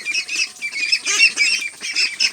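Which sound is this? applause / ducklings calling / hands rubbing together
ducklings calling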